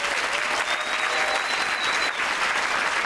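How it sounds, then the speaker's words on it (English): Loud, continuous audience applause fills an awards show hall, a thick wash of clapping from a large crowd that holds steady throughout, with a faint whistle rising above it. "Let's give a big round of applause."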